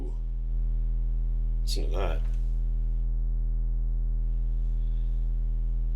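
Triangle wave from a Behringer Cat analog synthesizer, a steady sustained tone with a strong bass fundamental and soft harmonics, droning continuously while someone briefly speaks over it.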